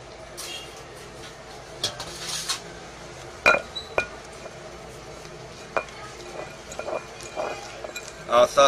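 A spoon scrapes and clinks against a bowl while pounded herbal powder is mixed, giving intermittent sharp knocks and rubbing sounds under a voice speaking nearby.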